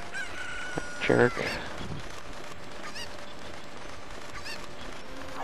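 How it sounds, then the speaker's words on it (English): A chicken in Zelda: Ocarina of Time gives one loud, brief burst of clucking and squawking near the start, then quieter game ambience continues while someone says a word. "You just grab the other chicken, which has run away by now."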